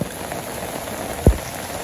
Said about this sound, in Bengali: আর বৃষ্টি হলো অতিরিক্ত হয়ে গেছে গা, এত বৃষ্টিতে ভালো লাগে না